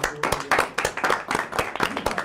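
A small group at a celebration event claps in a brief, rhythmic burst of distinct hand claps, fairly close and moderately loud, with faint voices underneath.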